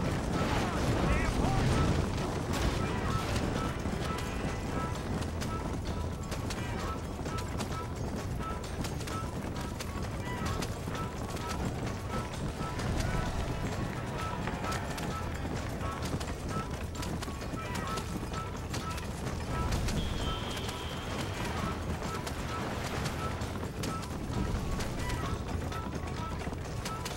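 Continuous rapid hoofbeats of a galloping horse in Red Dead Redemption drum under a busy game soundscape, steady and loud throughout, with occasional voices over it.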